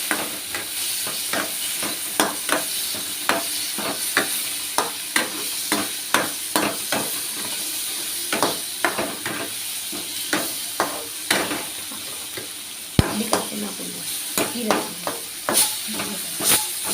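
Tomatoes fry in a pan under a steady hiss while a spoon scrapes through them in quick, regular stirring strokes, close and clear.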